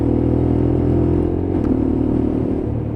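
A Lexmoto LXR motorcycle engine runs steadily at a loud, close, even drone, its pitch dipping slightly toward the end, heard alone without talk.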